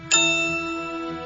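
Bright notification ding in a DoorDash radio advert: a single clear chime struck sharply, then ringing out and slowly decaying over about a second, heard alone.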